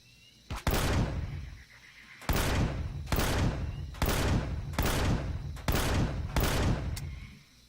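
Gunfire in the video game Empyrion: Galactic Survival comes as seven loud, sharp bursts at a fairly even pace. Each bursts with a broad blast that decays into a short rumbling tail, and no one speaks.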